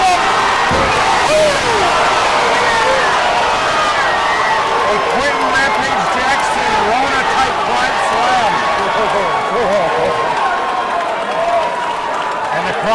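A loud, roaring crowd at a fight at the Eclipse Event Center in Beloit, continuous and dense throughout, with excited commentary running over the noise.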